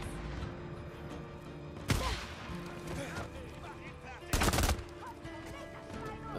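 Gunfire in the PS4 game Days Gone comes as two loud, sharp bursts of shots over a continuous bed of game ambience and effects.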